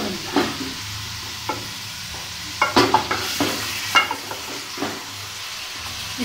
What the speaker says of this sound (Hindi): जब तक गोश्त जो है वो थोड़ा भून रहा है